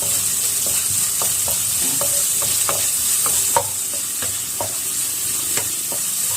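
Salmon stir-fried with chili in a Thai pad cha dish: a steady close sizzle of hot oil with repeated scraping clicks from the spatula as it is tossed, loud and continuous without talk.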